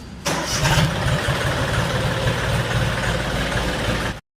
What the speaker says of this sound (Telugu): అట్లా బండి స్టార్ట్ చేసుకుని రండి